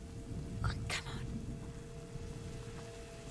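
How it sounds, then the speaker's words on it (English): Steady rain falls in A Plague Tale: Innocence, an even hissing wash with a low rumble underneath and a couple of brief louder splashes, behind faint game audio. "It's a beautiful day, and now it's pouring rain."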